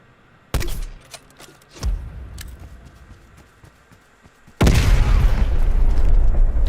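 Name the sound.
weapon shot and explosion in Black Ops Cold War video game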